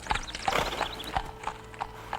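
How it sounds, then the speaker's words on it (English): A horse and carriage clip-clop past in a radio drama sound effect, with steady, evenly spaced hoof strikes ringing out at a walking pace, fairly close. "Can't you see that horse and carriage coming?"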